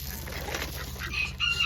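Poultry on a farm, tagged as chicken-like, gives a few short clucking calls over steady low background noise.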